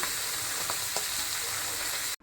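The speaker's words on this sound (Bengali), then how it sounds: "তারপর আবার গরম তেলের মধ্যে মাছ দুটোকে ছেড়ে দিলাম" Two pomfret fish fry in hot oil with a dense, steady sizzle and crackle, close and continuous, cutting off abruptly at the end.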